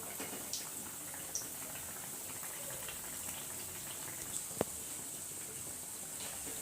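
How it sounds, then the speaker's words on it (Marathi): Pav vada deep frying in hot oil over a full gas flame, a steady bubbling sizzle with scattered small pops and one sharp crackle near the end. "छानपैकी तळून घेऊयात आपण"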